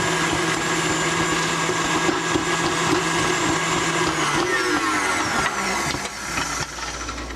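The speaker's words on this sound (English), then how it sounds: "Spin, spin, spin the mixer." An electric mixer whirs steadily while whipping chocolate mousse pie filling, a loud, continuous motor drone that shifts in pitch slightly toward the end.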